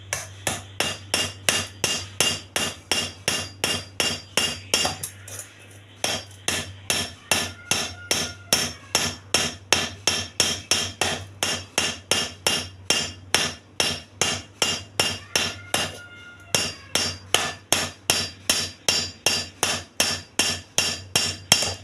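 Steady, rhythmic hammer blows on an iron piece while repairing a broken handle on an aluminium kadai, close and loud, striking at a fast regular pace with two brief pauses and no talking.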